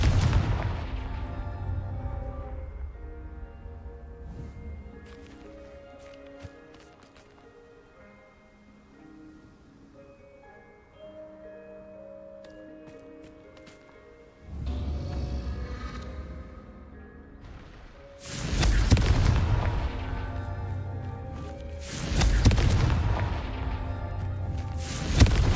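Confringo exploding spell blasts in a Harry Potter–style game, several heavy booming explosions with rumbling debris, separated by quieter stretches of musical score.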